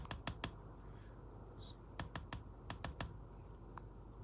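A command typed on a computer keyboard in Command Prompt: quiet, close keystrokes in two quick bursts of sharp clicks separated by a short pause, with no voice.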